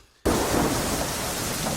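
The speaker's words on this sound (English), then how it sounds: "Relentless driving rain" Relentless driving rain starts abruptly after a brief quiet moment, then pours on as a loud, dense, continuous roar outdoors by a skinning shed.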